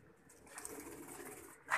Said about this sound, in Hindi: एक हम आपको दिखा रहे हैं मैली जरेदार आंखों में सियालकोटी कबूतर